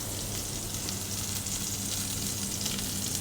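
Blackened snapper fillet frying in a hot pan, a continuous dense hiss and crackle of oil that holds steady and fairly loud throughout without pause.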